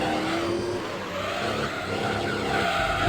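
Race car in Gran Turismo 3 on the Grand Valley circuit with cold rear tyres, squealing in a sustained skid from oversteer over a constant engine drone, loud and close, with no talking.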